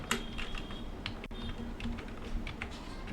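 Quick typing on a computer keyboard during spreadsheet work in Excel, with a steady run of light, close key clicks and one sharper tap partway through, heard alone against a faint room hum.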